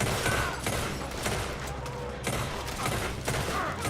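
Gunfire in Red Dead Redemption 2 crackles in repeated sharp bursts across the whole stretch. The shots are loud, with several dense volleys spaced roughly a second apart.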